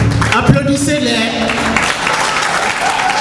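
Audience applauding traditional Ivorian dancers at a farewell ceremony in New York, steady dense clapping close by with voices talking over it.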